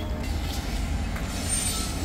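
A train rolling over a railway bridge above an underpass road, a steady low rumble of wheels and carriages close by with faint squeals, continuous throughout.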